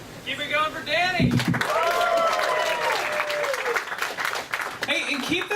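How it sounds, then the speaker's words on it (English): Comedy club audience applauding and cheering loudly at the end of a stand-up show, sustained clapping with whoops, a host's voice talking over it. "keep that applause going for all the comics that you saw tonight."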